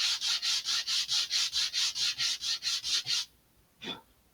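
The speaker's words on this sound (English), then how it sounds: "These will be easy enough to sand off this way just by lining them up." Rapid rhythmic rasping of sandpaper on Estes DARC model rocket parts, about fourteen even back-and-forth strokes, then a pause and one final short scrape.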